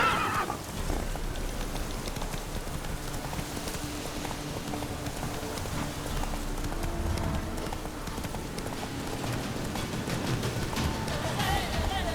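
Roach, the horse from The Witcher 3, whinnies amid steady hoof clip-clop and a rain-like wash of ambience, the neigh standing out against continuous game background noise.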